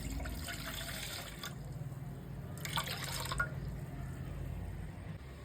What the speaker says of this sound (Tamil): இந்த கப்பில் தேங்காய் பால் விட்டுக்கலாங்க